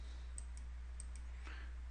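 Several soft computer mouse clicks in Minitab statistics software, brief and faint, spaced apart over a steady low hum.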